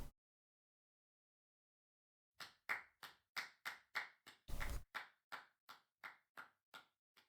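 A single person clapping after a silent pause, about a dozen sharp, evenly spaced claps with one longer burst of noise in the middle, close and clear.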